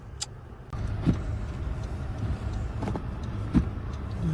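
A car strains to climb a snow-covered street in central Diyarbakır, its engine droning steadily up close while occasional knocks and scrapes sound over the continuous rumble.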